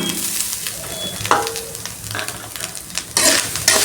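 Grated coconut sautéing in a pan with hing, giving a soft steady sizzle with bursts of stirring and scraping, a louder crackle surging near the end, no voices.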